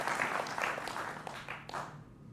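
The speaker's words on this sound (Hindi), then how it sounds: "जोरदार तालियों के साथ स्वागत है।" A studio audience applauds to welcome guests on a Hindi-language TV news debate, a steady wash of many hands clapping that thins and fades out over two seconds.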